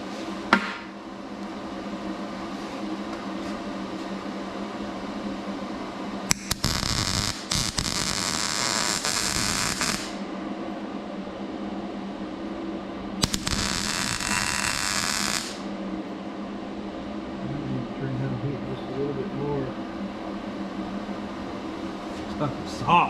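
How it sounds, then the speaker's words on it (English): A welder works on a rusty vintage EB Bronco antenna part, making two loud, harsh crackling bursts of several seconds each. Between the bursts a background hum continues and someone talks. "let's weld her up here"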